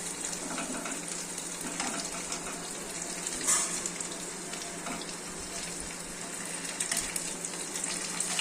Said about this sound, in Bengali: দিয়ে তোমরা দেখে নাও কিভাবে আমি বড়াটা ভাজছি